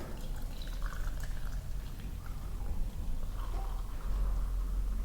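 Boiling water poured from a kettle over dried wormwood in a large mug, a steady close splashing trickle running throughout with a slight rise near the end.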